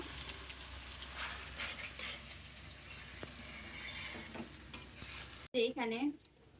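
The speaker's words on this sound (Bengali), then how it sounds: "আর এই পাশে আমি চিকেনটা ভেজে নিচ্ছি।" Chicken wings fry in a pan as a second batch, a steady close sizzle with stirring crackles that cuts out near the end and gives way to a brief, higher tonal sound.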